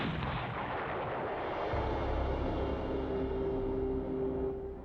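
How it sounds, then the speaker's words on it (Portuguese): A heavy explosion rumbles as a loud, sustained roar of low blasts, steady for several seconds before fading slightly at the end. "o filho mais velho de Lynn sobrevivera à explosão"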